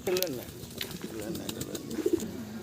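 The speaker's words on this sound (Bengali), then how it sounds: "একদম চমৎকার চমৎকার টপ কোয়ালিটির সব ফেন্সি কবুতরগুলো ভাই সংগ্রহ করছে আপনাদের জন্য।" Fancy pigeons coo softly nearby in low, rolling murmurs, with a few wing rustles and light clicks scattered through the short stretch.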